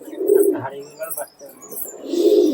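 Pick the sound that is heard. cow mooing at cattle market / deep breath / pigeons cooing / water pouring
pigeons cooing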